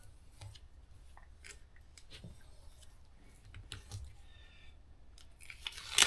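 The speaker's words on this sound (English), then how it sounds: "And then we can take this and we can cut out what is actually our sticker." Scissors snip through a printed label sticker sheet in short, irregular cuts, close and fairly quiet, with light paper rustling and no talking.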